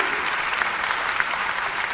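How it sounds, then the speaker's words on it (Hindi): Audience at a Gujarat community celebration in Raipur breaking into steady, dense applause welcoming guests, a continuous wash of many hands clapping at moderate distance with no pauses. "जोरदार तालियों से स्वागत करते हैं"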